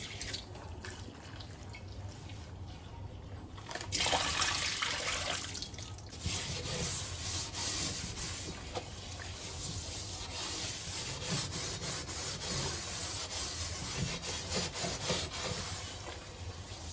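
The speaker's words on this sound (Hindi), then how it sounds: "तो हमारे पास एक कढ़ाई है वॉश करने के लिए, इसमें हम थोड़ा सा गर्म पानी डाल के रख देंगे जब तक।" A kadhai is scrubbed and washed with hot water in a home kitchen, producing continuous close rubbing and scraping with splashes and dripping water, steady and fairly quiet with a faint background hum.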